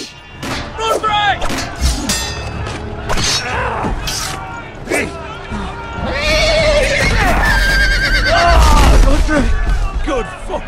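A horse neighs and whinnies repeatedly amid a chaotic video game battle from Telltale's Game of Thrones, loud and close, with shouting voices, thuds and clashing around it.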